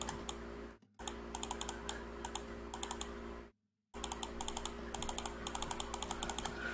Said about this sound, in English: side effect of my current recording setup is that you can hear my clicking